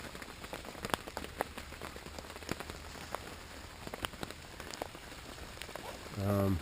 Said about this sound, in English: we've been getting a lot of rain